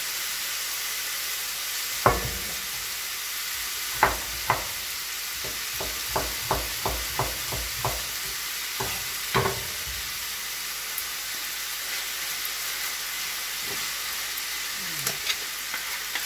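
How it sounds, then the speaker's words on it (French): Potato, carrot and peas tipped into a hot pan for lamb samosa filling, setting off a steady sizzle, with a run of sharp spoon-on-pan clacks and scrapes as the vegetables are stirred, close and clear with no talk. "Et là, je vais verser mes légumes"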